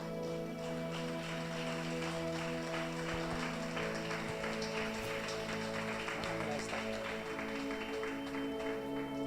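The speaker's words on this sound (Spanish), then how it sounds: "Dele un aplauso al Señor." A church congregation at a Sunday service gives a steady wash of applause, fairly quiet and continuous, over a sustained musical drone and hum in the room.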